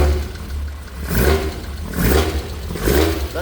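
A Nissan Skyline GT-R Hakosuka engine fires up and revs in three strong, rising bursts, loud and close, with no talking over it.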